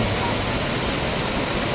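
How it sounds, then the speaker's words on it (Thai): Mok Fa waterfall in Doi Suthep-Pui National Park, Chiang Mai: a dense, constant roar of falling water, loud and close, steady throughout with no pauses. "มาถึงแล้วนะครับ น้ำตกหมอกฟ้านะครับ"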